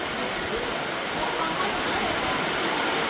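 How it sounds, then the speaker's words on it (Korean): Heavy rain pours down steadily during the rainy season in Vietnam, a dense continuous hiss of water hitting surfaces that stays even throughout. "비가 쏟아집니다. 비가 쏟아져요."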